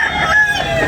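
A rooster crows once, close and loud, at a rooster market in Tabunok, Talisay.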